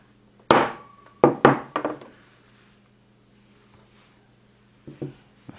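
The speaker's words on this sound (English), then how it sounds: "beat that pin back in there" A hammer drives the firing pin back into a Ruger 10/22 bolt: one sharp metallic tap, then a quick cluster of three or four strikes, and two fainter taps a few seconds later.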